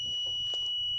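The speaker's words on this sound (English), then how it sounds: "there is the high frequency pitch ringing noise, which is produced through the buzzer" A steady high-pitched electronic tone from an active buzzer rings continuously throughout, thin and piercing, with faint low background rumble beneath it.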